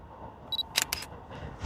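A Fuji X-E5 camera fires its shutter on a Tokyo street by a bridge, a quick pair of crisp clicks close to the microphone, preceded by a brief electronic beep, over quiet background hum.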